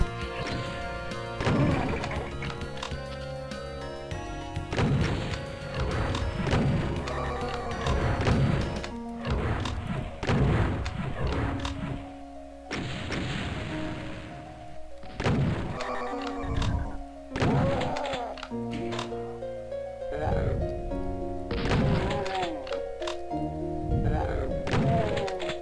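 Rocket launcher fire in the Doom WAD STRAIN, Map 11, as repeated heavy thunks and blasts against a loud game soundtrack, firing steadily across the whole stretch.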